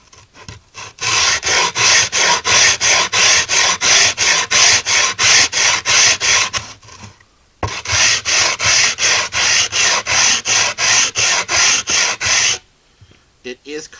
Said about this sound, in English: I want to get that middle sanded down and see what it does.